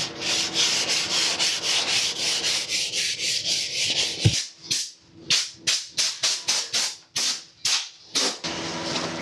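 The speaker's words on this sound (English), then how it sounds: "Sanding it with 320 now." Steady hand sanding with fine 320-grit sandpaper on a motorcycle fairing or fuel tank, continuous rubbing giving way to short, separate strokes in an uneven rhythm, close and clear.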